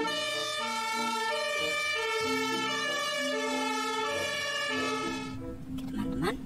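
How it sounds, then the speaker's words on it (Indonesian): A toy ambulance plays a loud electronic siren, a steady repeating wail of stacked tones close by, then cuts off into brief clatter and handling noise. "Wah, ada mobil ambulans."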